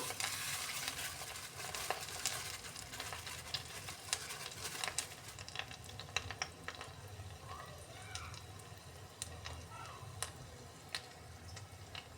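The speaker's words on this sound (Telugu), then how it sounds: "నూనె వేడెక్కిందండి ఇప్పుడు వడలు వేసుకుందాము" Urad dal vadas frying in hot oil, with a soft, even bubbling sizzle and scattered small ticks and pops that stays low and steady throughout.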